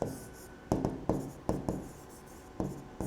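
Handwriting on paper while writing out a summary: a run of close, soft pen or pencil strokes scratching in short bursts with brief pauses between them, no voice present.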